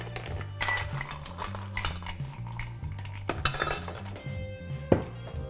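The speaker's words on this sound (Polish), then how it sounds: "Schładzam szkło." A glass being chilled for a brandy cocktail gives off irregular close clinks and rattles with a few sharper taps, and no one speaks.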